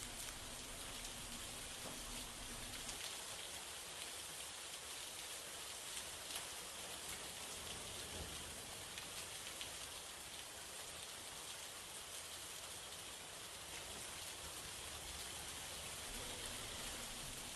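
Heavy monsoon rain pours steadily in Maharashtra, a dense, continuous hiss of downpour on surfaces that holds constant throughout with no voices.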